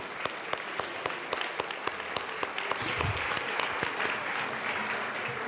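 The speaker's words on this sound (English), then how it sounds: "please welcome them with a round of applause." Applause in a state legislative chamber as guests are welcomed, a moderate, even wash of clapping from the members with a few sharper individual claps standing out.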